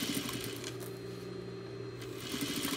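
Sewing machine stitching a fabric seam as a cylinder is sewn, a steady close whirring hum that runs without a break.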